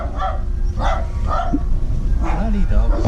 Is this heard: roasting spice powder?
no